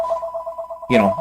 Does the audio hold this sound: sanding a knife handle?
no